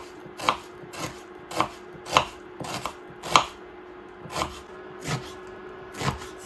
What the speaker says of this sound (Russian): Режем лук.